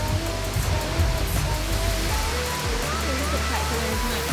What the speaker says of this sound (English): This is definitely a very impressive waterfall.